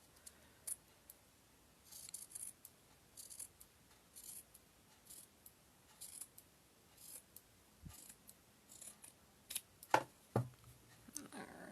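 Scissors trimming the ends of a fleece neck warmer make soft, close snips in short irregular bursts, with a couple of slightly louder clicks near the end, against a quiet room.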